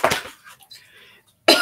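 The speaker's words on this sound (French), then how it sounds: "Et je tousse." A person coughs twice, close to the mic, with short harsh bursts at the start and end separated by a quiet pause.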